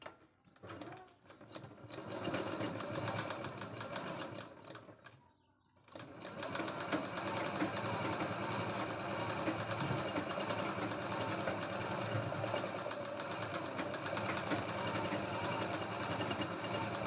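Sewing machine stitching a katori blouse, running in fast continuous bursts with a rapid mechanical whirr, pausing briefly near the start and again around the middle before running steadily to the end, fairly quiet and close.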